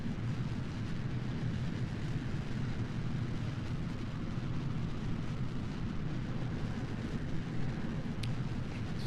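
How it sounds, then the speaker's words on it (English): The Ryan Delta rocket launches at full throttle, giving a steady, heavy low rumble and roar that holds constant throughout, broad and booming. "Alright, now it's time for launch. The Ryan Delta rocket. Full throttle."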